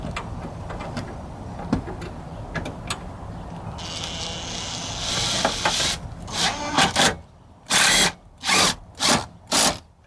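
A power tool drives a bolt back in while a blower motor is replaced on a 1997-2004 Ford F-150, with a few quiet rattles, then a noisy whir and three loud, evenly spaced bursts of driving near the end.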